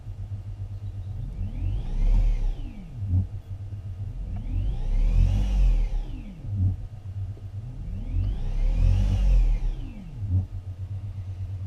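A BMW E31 840Ci converted to electric drive gets three repeated throttle blips, each an electric motor whine that sweeps up and back down over a steady low hum, close and evenly spaced.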